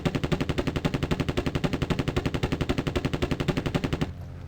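Sustained automatic gunfire aimed at an HK Scout in the shooter game Terminator Future Shock, a steady, loud, rapid stream of shots lasting about four seconds before stopping abruptly, with no talk.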